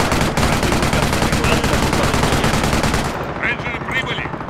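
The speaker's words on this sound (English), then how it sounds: "That barrage coming in, I think." A battle in the World War II strategy game Company of Heroes, Eastern Front, during an artillery barrage: loud, dense rapid gunfire and blasts for about three seconds, then thinning to a lighter rumble.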